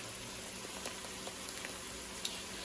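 Minced garlic sizzles in a pan while a chili cheese hot dog is being made, producing a soft, steady frying hiss with a few small pops.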